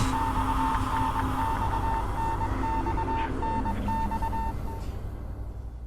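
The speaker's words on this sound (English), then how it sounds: "The beeping suddenly stops." A steady electronic beep in the video game Death Mark repeats in an even rhythm over a dense background hum, then cuts out near the end.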